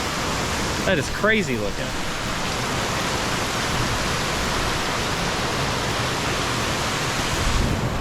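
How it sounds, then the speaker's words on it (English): A waterfall pours steadily into a swimming pool at a hidden Arkansas waterfall site, a broad, constant roar of falling water filling the scene from start to finish, with a brief spoken remark near the beginning. "It's a pool with a waterfall with a pool with a waterfall."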